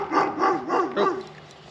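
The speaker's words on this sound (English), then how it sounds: "dog barking" A dog barks four times in a steady rhythm at moderate distance, each bark harmonic and slightly yelping, then quiet outdoor background.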